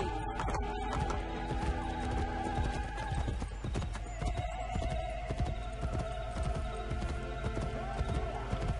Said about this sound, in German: Also wir reiten jetzt wirklich quasi quer durch die Hauptstadt, durch Rom durch.